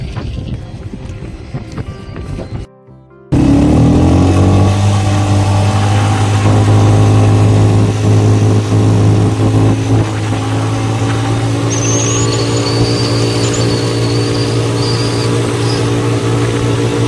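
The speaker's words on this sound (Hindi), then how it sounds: "तो देखो यहाँ बीच पे 4 व्हीलर मोटरसाइकिल" A four-wheeler ATV motorcycle engine on the beach by Colaba Fort in Alibag starts after a short quiet gap, then runs as a loud, close, steady droning hum with slight revving and a thin whine later on.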